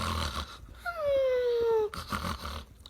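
A human voice imitates hens snoring in a barn at night, giving one drawn-out, wheezy, descending nasal snore of about a second, framed by brief breathy sounds.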